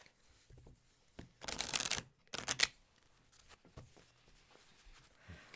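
Tarot cards riffle-shuffled by hand in two loud bursts of crisp flapping, the second cut short, with quieter card handling and soft taps around them.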